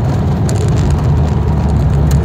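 A Volkswagen GTI engine roars under hard throttle, a loud, steady low-pitched drone heard from close by without any talking over it.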